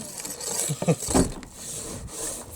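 Caked dirt is scraped off a vehicle window on a West Desert overland trip, a series of short rough rubbing and scraping strokes, fairly close and moderately loud, with no talking.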